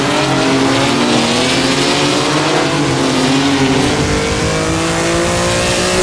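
Maserati 250F racing car in a sim racing game, a loud sustained engine roar with shifting pitch as it drops down through the gears, constant and close with no pauses.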